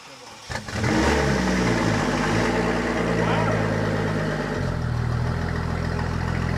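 A car engine starts and settles into a loud, close rumbling idle with revs rising and falling, and people talk over it.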